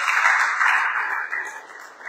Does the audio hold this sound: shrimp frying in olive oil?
no